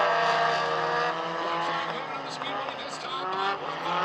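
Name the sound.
black number 56 4-cylinder race car racing at Maquoketa Speedway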